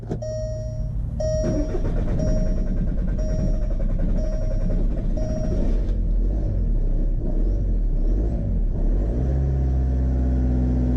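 A car engine, stalling earlier and still under repair, held at a steady fast idle around 2,000 RPM, giving a continuous loud rumble with a faint whining tone through the first half, close by and without talk.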